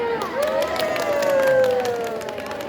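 An audience at a school teachers' workshop event in Jakarta cheers and claps, with a sustained shouted whoop rising over the crowd noise for a couple of seconds.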